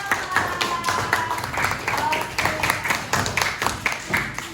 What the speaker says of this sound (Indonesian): Tepuk tangan untuk teman-teman yang sudah berhasil menjawab